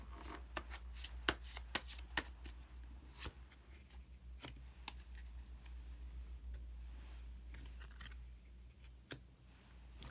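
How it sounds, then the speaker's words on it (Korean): Tarot cards are shuffled and drawn: quiet, crisp riffling and sharp snapping flicks of card stock, close and irregular, some in quick bursts, with no talking. "히든 카드를 한 장 더 뽑아보도록 하겠습니다."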